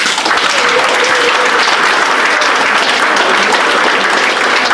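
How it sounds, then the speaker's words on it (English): A convention audience claps steadily and loudly for several seconds, a dense, even wash of applause with no pauses. "So let us stand and give her a hand of applause."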